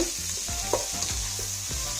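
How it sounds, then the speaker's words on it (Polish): Leeks and onions sizzle steadily in hot olive oil while a utensil stirs and scrapes the pan a few times. "Na rozgrzanej oliwie smażę pora i cebulę."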